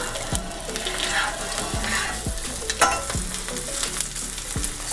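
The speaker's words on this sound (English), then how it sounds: "I'm going to turn on the sides and render down some of the fat on the steak" A peppercorn steak sears fat-side down in a hot pan, rendering its fat with a loud, continuous sizzle. Regular dull knocks of the pan or tongs sound roughly every half second.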